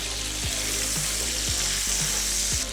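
Chopped cabbage browning and caramelizing in a hot frying pan, a steady close sizzle with soft scrapes and stirring knocks from a utensil every half second or so.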